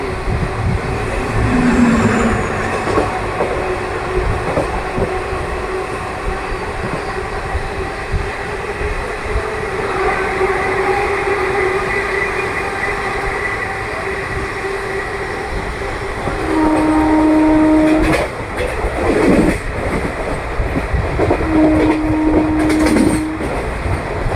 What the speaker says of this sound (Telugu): మన ట్రైన్ వచ్చేసండి చింతలపల్లి రైల్వే స్టేషన్ అయితే స్కిప్ చేస్తుంది